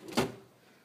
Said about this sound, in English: Now pull open the drawer.